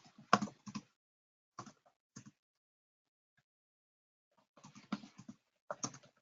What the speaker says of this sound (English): I see like you see me typing because I'm more used to it